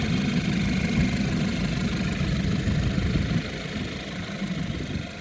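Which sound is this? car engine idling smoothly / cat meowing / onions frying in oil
car engine idling smoothly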